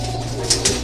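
A racing pigeon gives two short, close coos over a steady low hum, at the end of a 241 km training race to Rosario, La Union.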